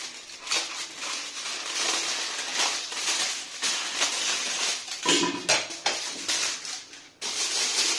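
Aluminium foil being pressed and crinkled over a pot of mutton biryani, with dense rustling crackles and a few metallic clinks, close and fairly loud, broken by brief pauses.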